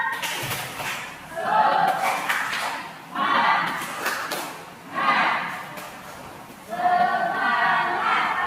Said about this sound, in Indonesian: Coba Bapak Ibu dulu, tepuk semangat.